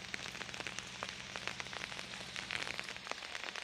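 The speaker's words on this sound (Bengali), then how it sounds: "শুনতেই পাচ্ছ আমাদের দিকে কেমন বজ্রবিদ্যুৎ সহ বৃষ্টি হচ্ছে এখন" Rain pours steadily during a thunderstorm in the Bardhaman area of West Bengal, a dense, even patter with scattered sharper drops striking close by. No one speaks, and no thunder stands out.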